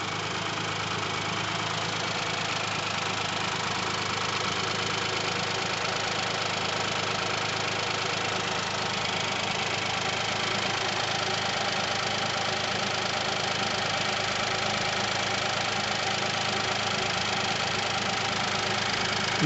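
Steady idle of a 2018 Hyundai Kona 1.0 T-GDi turbo petrol engine, a smooth continuous drone with light mechanical ticking, recorded close with no talk.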